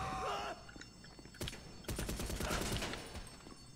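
Rapid gunfire in GTA Online, the Chop Shop heist mode, heard as a brief burst near 1.5 seconds and then a denser stretch of repeated shots, loud and close, with no talk over it.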